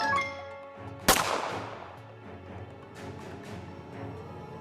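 A single sharp gunshot effect in an animated Malayalam story cracks out loud and close, followed by a ringing, fading tail over a faint musical background.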